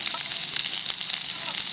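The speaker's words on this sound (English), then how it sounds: "These are the onions I cut for frying." Loud, steady sizzling of onions frying in coconut oil, close and continuous with small crackles throughout.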